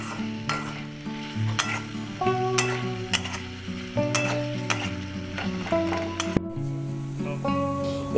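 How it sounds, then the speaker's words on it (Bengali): Ginger, garlic and green chili paste with tomato puree sautéing in a pan, a continuous close sizzle with repeated spatula scrapes and stirring clinks throughout, no voices. "আদা, রসুন আর কাঁচা লঙ্কার পেস্টটা দিয়ে দিলাম আর সুন্দর করে ভালো করে কষাতে থাকবো"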